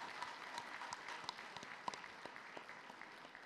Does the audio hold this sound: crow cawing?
no